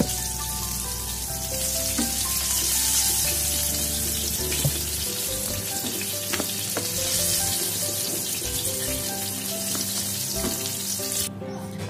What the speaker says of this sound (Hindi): देखिए अभी मेरा पनीर अच्छे से फ्राई हो गया है।